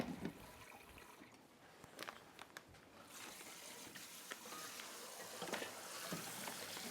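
Running water splashes quietly as dishes are washed at a sink, a low continuous trickle with a few soft knocks and clinks, fairly faint and without speech.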